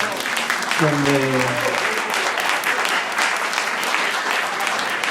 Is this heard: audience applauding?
yes